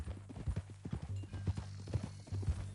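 Horse hooves clip-clop at a steady walking pace in the Red Dead Redemption 2 video game, with close, distinct low thuds.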